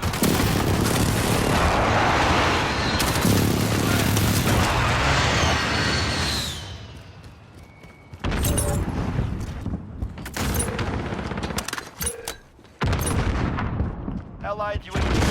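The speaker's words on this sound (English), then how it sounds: "Allied precision airstrike incoming." Precision airstrike explosions boom across the battlefield in the Call of Duty Modern Warfare video game, a loud sustained roar of blasts and gunfire dying down, then scattered shots and an announcer voice over continuing game noise.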